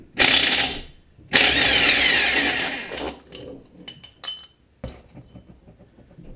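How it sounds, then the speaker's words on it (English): A Harbor Freight impact wrench with a 15/16 socket removes the flywheel nut on a Tecumseh HM80 small engine. Two loud, close hammering bursts of about a second each are followed by softer metallic clinks and clatter of tools. "to remove the, uh, the flywheel here, I have my Harbor Freight impact wrench"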